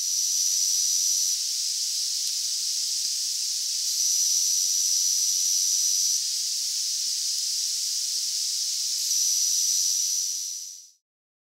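A 0.96-inch OLED I2C display gives a steady, thin high-pitched whine that continues unbroken for about ten seconds before cutting off, with a few faint ticks beneath.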